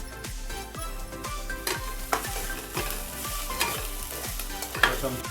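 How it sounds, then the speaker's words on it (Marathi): Spices sautéing in hot oil with a pinch of asafoetida, a steady sizzle broken by rhythmic scraping strokes of a spoon stirring the pan, repeated about every half second, close and clear. "फक्त त्याच्यातला कच्चेपणा जाण्यासाठी आपण त्याला परतून घेऊया त्यामध्ये आपण थोडासा हिंग टाकून घेऊया"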